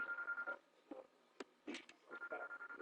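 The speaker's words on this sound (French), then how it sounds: "Excusez-moi, c'est mon téléphone." A mobile phone rings quietly in an indoor room, its ringtone sounding in short repeated bursts with brief gaps, faint and alone.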